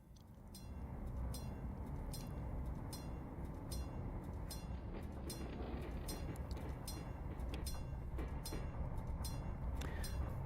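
Steam locomotive shunting on the Victorian Railways line from Healesville in the Trainz video game, heard as a steady close rumble with repeated rhythmic clanking and hissing bursts, continuous throughout with no talk.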